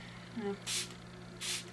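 Two short bursts of Smashbox Photo Finish Primer Water face mist hiss close by, separated by a brief pause, over a faint background hum.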